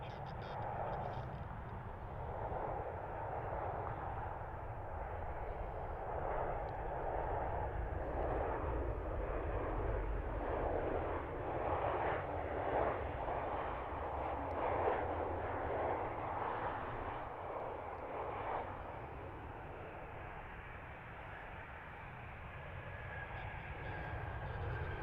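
A United Airlines jet in retro Continental livery rumbles at Cleveland Hopkins airport, a loud, steady broadband engine roar that swells in the middle and holds throughout, with a faint high whine near the end.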